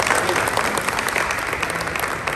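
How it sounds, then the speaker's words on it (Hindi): Audience applause for Gauri ji at a recognition event: dense, steady clapping from a crowd, fairly loud and even throughout, with no break. "तो जोरदार तालियां गौरी जी।"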